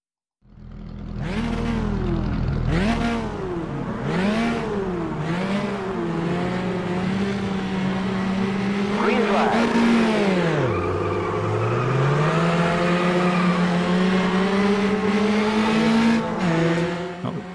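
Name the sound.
Formula Trainer race car engine revving in Automobilista video game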